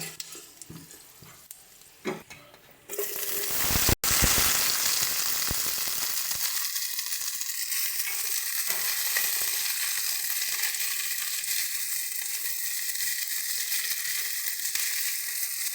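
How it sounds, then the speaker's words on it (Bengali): Potato, eggplant and flat beans dropped into hot oil seasoned with panch phoron, quiet stirring giving way to a sudden loud sizzle and clatter that settles into steady, close frying hiss. "একবারের পোড়নের তেলেই কিন্তু আমরা একবারে সমস্ত সবজিগুলোকে ভেজে নিতে পারবো"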